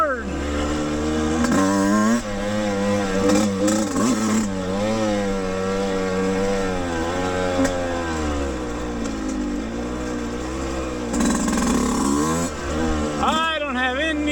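A Yamaha YZ125X two-stroke dirt bike engine buzzes and revs up and down on an off-road trail for the whole stretch, with rising and falling pitch and a voice talking over it.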